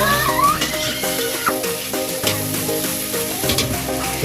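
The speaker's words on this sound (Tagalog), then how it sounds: "Ginisa natin sa sibuyas bawang" Tomato, onion and garlic sauté in a pan for a mung bean stew, giving a continuous loud sizzle with stirring scrapes and music playing underneath.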